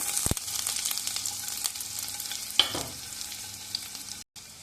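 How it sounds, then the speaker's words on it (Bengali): Chopped garlic fries in oil in a pan, with a bright continuous sizzle and scattered crackles, a sharp clack of a utensil near the start and another mid-clip, then a brief cut to silence near the end. "ওই তেলের মধ্যে এবার দিয়ে দেবো কুচনো রসুন"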